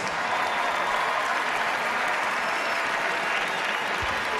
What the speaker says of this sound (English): Ladies and gentlemen, a round of applause for the 2003 NBA All-Stars.